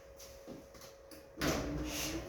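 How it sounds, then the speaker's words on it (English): A garage door rolls along its track after servicing, with a faint creaky hum at first, then a louder rumbling slide that takes over and keeps running to the end. "A bit creaky, but it seems to be travelling much better."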